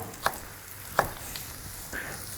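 A knife slicing sausage for fried rice on a board, three distinct crisp cuts about a second apart, close and fairly quiet against a soft background hiss.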